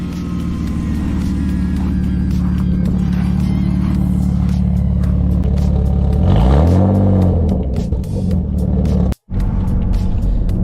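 A BMW car engine tuned to run on ethanol cranks and catches, then settles into a loud rumbling idle, swells in a rev, and drops back, close by with some clatter and a brief cutout near the end.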